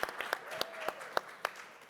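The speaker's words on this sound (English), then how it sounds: "Wild applause." Applause from a startup conference audience, sparse and fairly quiet, with scattered individual claps standing out over a soft hall background.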